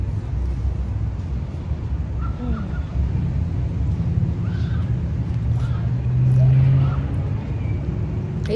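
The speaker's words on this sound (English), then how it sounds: "These birds going crazy." Several crows cawing in short bursts over a steady low rumble of passing road traffic outdoors, the calls moderately loud and overlapping at times, with a brief louder vehicle swell near the end.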